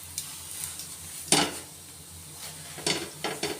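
A paratha fries in oil on a pan, a low sizzle broken by several short bursts of scraping and spatula movement against the metal, quiet and close, with no voices.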